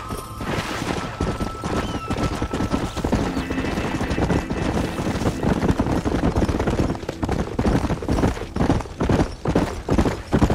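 Horses galloping in Red Dead Redemption, a dense, continuous drumming of hooves with clinking tack, steady and close throughout.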